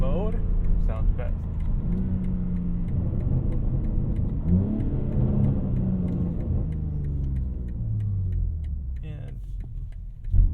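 A BMW G80 M3 Competition drives along with a low, steady engine rumble. It rises and falls in a couple of moderate revs, heard from inside the cabin at close range.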